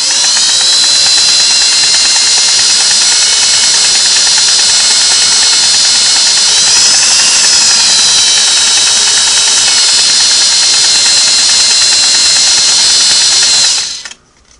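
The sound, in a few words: Singer 401A sewing machine stitching zigzag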